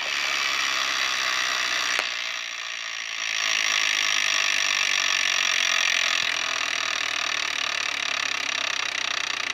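The wheel of a Wheel of Fortune Deluxe electronic tabletop game spins with a dense, steady mechanical whir and ratcheting that holds for several seconds, broken by a couple of sharp clicks.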